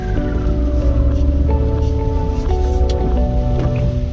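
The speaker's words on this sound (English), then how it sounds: "Geez, it's really chucking it down now." Heavy rain hammers steadily on a 4WD on forest tracks near Perth, a dense close drumming wash under a low engine hum and tonal in-cabin sounds.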